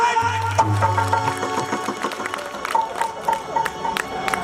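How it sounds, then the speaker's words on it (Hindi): An audience at a Ras Leela stage performance of Devki's wedding claps loudly on cue. The claps come as scattered, sharp bursts over a sustained musical tone and crowd murmur, and they grow denser in the second half. "जैसे मैं 3 बोलूं आप सभी जोर से ताली बजा देना"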